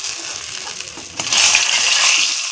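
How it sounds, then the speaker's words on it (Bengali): Potato pieces dropped into hot oil in a pan, a soft crackling that swells into a loud, steady hiss and sizzle partway through, close and without talk. "এখন আমি আলুটা ভাজা করে নেব, সুন্দর করে লাল লাল করে আলুটা ভাজা করে নেব"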